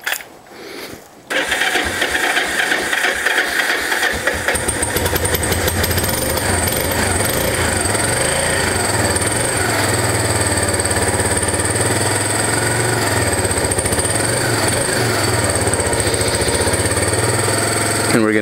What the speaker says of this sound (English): Alright, here's going to be a cold start for y'all.